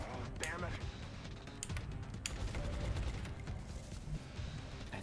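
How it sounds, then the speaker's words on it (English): SMG suppression fire in the turn-based game XCOM: Long War: rapid automatic gunfire rattles steadily under a dense battle soundscape, with sharp individual cracks standing out, while a player talks over it. "Let's use the SMG."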